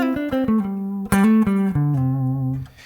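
An electric guitar played through a Kemper acoustic simulator with no effects, a few plucked notes and a strummed chord ringing out clearly, no talking.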